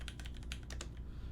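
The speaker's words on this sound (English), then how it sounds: "I am a really heavy typist." Heavy, forceful typing on a mechanical keyboard during a custom build session with GMK Olivia keycaps, a quick irregular run of sharp clacking keystrokes close up, with no voices.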